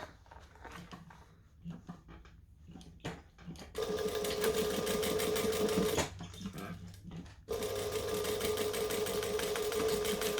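A sewing machine stitches a bag lining in two loud, steady whirring runs separated by a short pause, after some quiet handling clicks and taps at the start.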